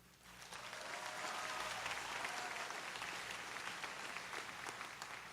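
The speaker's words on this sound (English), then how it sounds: "Let's give a round of applause for all who have helped us earn our diploma tonight." A large crowd at a high school graduation ceremony applauds, a broad wash of clapping that swells and holds steady, heard from a distance in a big hall.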